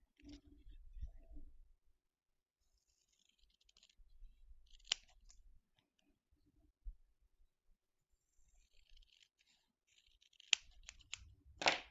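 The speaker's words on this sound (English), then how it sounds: "this can be done with some scissors" Sparse, close snips of scissors cutting paper in a few short bursts, separated by quiet pauses, with soft rustling in between.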